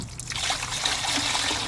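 Water trickles and splashes steadily as it is poured out of a knock-off Berkey-style gravity water filter being flushed after a filter swap, a continuous close pouring sound.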